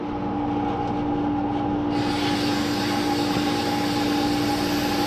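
A steady mechanical hum with a constant tonal whine from a freeze dryer's vacuum pump, running continuously at close range; a hiss brightens partway through.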